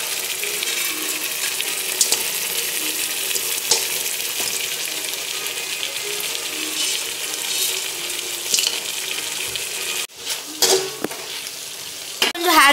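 Cauliflower pieces for cauliflower manchurian fry in hot oil, a dense, steady bright sizzle with a few sharp crackles and clinks near the end, no talking.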